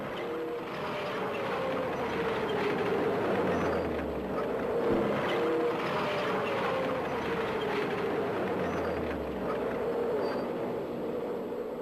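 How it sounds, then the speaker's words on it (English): Strv 103 tank moving forward, a steady low engine drone and rumbling tracks holding at an even level throughout, with slow swells in the deep rumble. "The tank can then move forward again."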